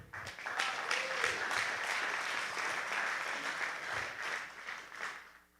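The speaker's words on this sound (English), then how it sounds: "give a quick round of applause to Isaac Bermea" Spectators at a San Antonio boxing event give a round of applause for boxer Isaac Bermea, a steady, full crowd clapping that swells quickly, holds for several seconds and then fades.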